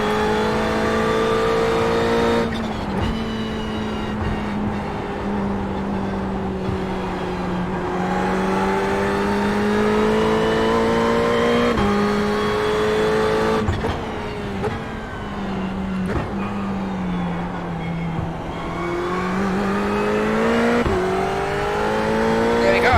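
A Ferrari race car engine lapping Tsukuba in the iRacing video game, loud and continuous, revving up and down through gear shifts with tones sweeping upward and dropping over and over.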